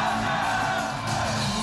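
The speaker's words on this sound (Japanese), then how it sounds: "地響きのような歓声が鳴りやみません" A packed crowd of about 2,000 fans, including standing spectators, cheers loudly at an HKT48 solo concert in a hall. The roar of yells and whoops is steady and sustained, with no break.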